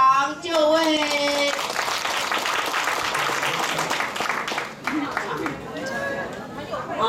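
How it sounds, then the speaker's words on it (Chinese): Audience applause welcoming the chairman at a Youth Corps committee chairperson handover ceremony in Longtan, a dense sustained clapping from a crowd lasting several seconds, with a voice heard briefly at the start. "让我们以热烈的掌声恭请大会主席陈维德"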